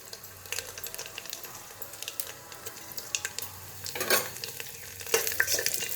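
Asafoetida, dried red chilies and lentils sautéing in oil in a bronze pot, a light crackling sizzle with scraping stirs and a couple of louder clatters near the end.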